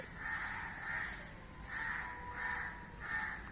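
Crows caw in a steady series of about five harsh, evenly spaced calls at moderate distance, with no voices over them.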